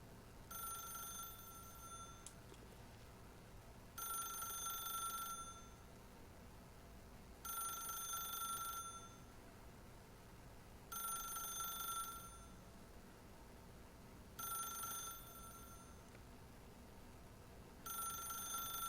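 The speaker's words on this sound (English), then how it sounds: "Alright, doesn't look like we can just let it ring infinitely. Let's pick this up." A telephone in the video game The Stanley Parable rings in bursts of about a second and a half, spaced evenly and repeated six times over a quiet background hum.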